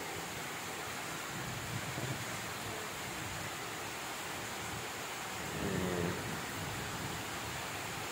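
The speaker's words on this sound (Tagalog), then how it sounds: "Na, kusog kayong ulan." Steady heavy rain hisses evenly throughout, a broad wash of noise with a faint low rumble like distant thunder partway through, and no voices over it.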